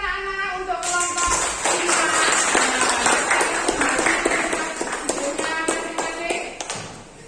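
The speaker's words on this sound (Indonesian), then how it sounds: "Kita kasih tepuk tangan anak-anak untuk kelompok" A group of schoolchildren clap together in a classroom, a dense patter of many small hands with voices mixed in throughout.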